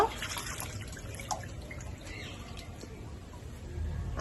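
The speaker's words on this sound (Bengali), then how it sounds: "চলো মাছ ধুয়ে নিই" Rohu fish being washed by hand in water, with running water splashing and dripping steadily and close throughout, no voices.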